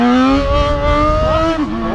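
Motorcycle engine revving loud and close as the throttle is twisted, a rising harmonic whine that climbs, dips and swells again over two seconds, alone without talk.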